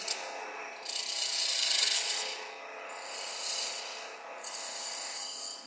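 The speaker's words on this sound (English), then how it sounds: "I'm just going to use my spindle gouge to clean that up" Spindle gouge scraping an ebony Christmas ornament turning on a lathe, giving three rasping, hissing passes of a few seconds each that swell and fade, fairly quiet, close up, with no talk over them.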